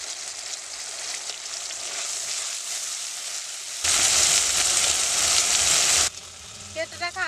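Spice paste of ground cumin, garlic and turmeric fries in a pan for a katla fish curry with young jackfruit, giving a steady close sizzle that swells into a louder, harsher hiss for a couple of seconds before settling with a few light clinks.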